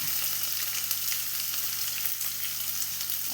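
Ginger is added to a hot pan of oil with onion and urad dal frying. The sizzle is loud, dense and continuous, with faint crackles scattered through it and no voices.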